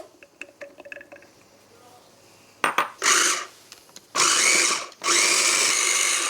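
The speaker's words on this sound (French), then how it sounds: "Une partie des framboises va être mixée pour être incorporée dans notre ganache framboise." Blender puréeing raspberries for a raspberry ganache for a chocolate tart, preceded by light clinks and taps, then several loud whirring bursts separated by short pauses.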